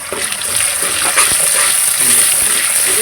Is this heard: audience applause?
no